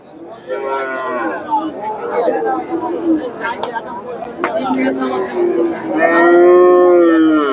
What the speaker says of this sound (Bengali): এখানে একটা দেখেন ক্রস ব্রিডের ষাঁড়